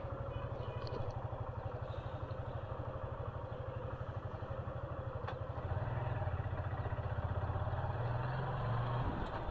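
A freshly serviced Suzuki Gixxer SF 155 motorcycle engine runs with a steady low throbbing pulse, then rises slightly as the bike pulls away, heard moderately close and alone.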